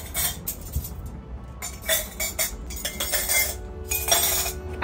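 Flower Market patterned dishes being handled at an outdoor patio garden table setting, with repeated close ceramic clinks and clatters in irregular bursts, some cutlery-like chinks among them.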